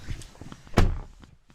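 A 2020 Nissan Sentra's door lock engages with a single solid thunk amid a few soft handling clicks and taps, close and short.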